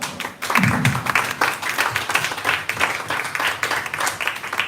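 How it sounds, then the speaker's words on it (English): An audience claps for students at a maker space event. The applause is steady and moderately loud, spread across many hands, with a brief voice near the start. "So big round of applause for all of them."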